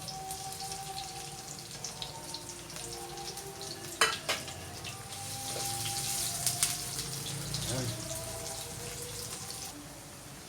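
Garlic and onion sautéing in a pan for chicken wing adobo, a steady sizzle throughout with a few sharp clacks of a utensil and a brief surge of crackling near the end.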